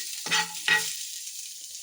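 Mutton pieces frying in oil for a Mangalorean-style sukka, two short sizzling bursts in quick succession, each fading within a fraction of a second, followed by near silence with faint background hiss.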